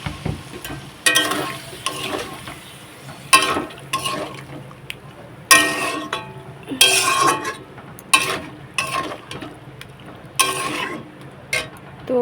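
Tomatoes with a little water sautéed and stirred in a pan, giving bursts of sizzling and scraping that come and go in an irregular rhythm, close and moderately loud, with faint voices underneath.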